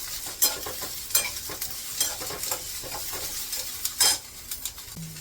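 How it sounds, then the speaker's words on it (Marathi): White sesame seeds and coriander roast in a pan over a low flame, with close stirring scrapes and light clinks above a faint, dry sizzle. "आता हे तीळ आणि कोथिंबीर 1 मिनिटभर भाजून घेते बारीक गॅसवर."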